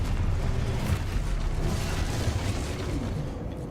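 Booming blast of the Exposo or Confringo explosion spells in Hogwarts Legacy, a loud dense rumble with bursty pops and crackling debris across the whole stretch.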